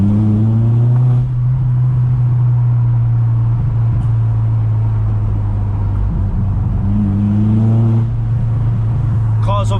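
VW MK4 Golf GTI on a road test after a front-mount intercooler install, engine droning steadily from inside the cabin with pitch rising under acceleration around the start and again near the end, someone talking briefly over it.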